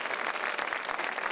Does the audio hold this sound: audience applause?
yes